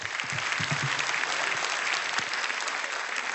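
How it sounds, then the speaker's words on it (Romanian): Steady, dense audience applause from a crowd at a folk ensemble's 30th anniversary concert, loud and sustained throughout without pause. "Aplauze!"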